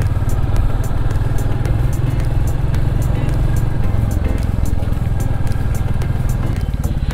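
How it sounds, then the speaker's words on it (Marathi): A 2021 Royal Enfield Classic 350 thumps steadily while being ridden, its close, loud single-cylinder beat pulsing evenly without pause. "साऊंड पण खूप मस्त आहे गाडीचा"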